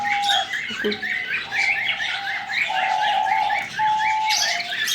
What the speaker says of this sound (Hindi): प्यारी प्यारी डफ हैं, बहुत मासूम हैं